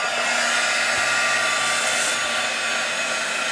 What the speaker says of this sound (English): Heat emboss.